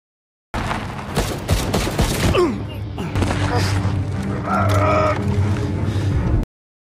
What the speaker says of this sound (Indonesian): Sean pun memutuskan mengambil tindakan berani dengan berhenti dan langsung menembaki Carlos serta pasukannya